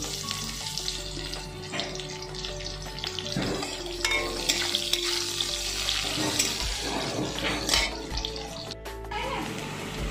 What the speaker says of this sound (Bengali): পেঁয়াজটা কিন্তু ভাজা ভাজা হয়ে গেছে।